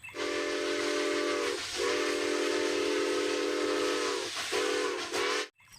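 A toy classic steam train gives a loud, close, hissing whistle in three long blasts separated by short breaks, with no voices.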